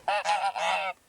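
Geese on a farm at an Irish heritage site let out two or three loud, harsh honks close by in quick succession, then fall silent.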